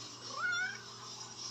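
A single short, rising meow from a mother cat near the microphone, a thin, clear cry lasting under half a second against a quiet indoor background.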